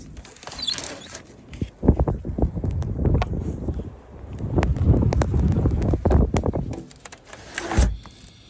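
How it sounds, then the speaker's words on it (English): Blizzard wind gusts roaring through an open window during a heavy snowstorm, rising and falling in loud rushing surges with buffeting thumps against the microphone. "the wind is so crazy with the snow"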